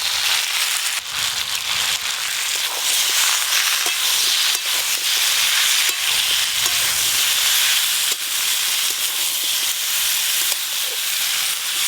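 Ginger-cumin paste with a little chilli powder, salt and oil sizzles steadily in a pan of hot oil, a close, continuous frying hiss with small crackles and occasional stirring scrapes, no voices.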